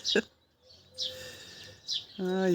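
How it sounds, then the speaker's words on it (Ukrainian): A few short, high bird chirps from birds in a walnut tree sound at intervals, and a voice speaks at the end. "Пташки на горіха повисідають і виспівують, виспівують."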